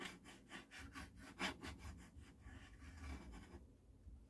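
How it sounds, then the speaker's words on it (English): A Realistic LAB 420 turntable whose motor rubs against the top of its platter makes a faint, rhythmic scraping, about a dozen regular strokes that fade out near the end. "that is just the motor kind of rubbing against the top of the platter here."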